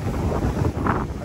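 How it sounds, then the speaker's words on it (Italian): Wind buffeting a microphone outdoors during a bicycle ride in stormy weather between Catania and Palermo, a steady close rumbling roar without a break. "ma comunque c'è il vento"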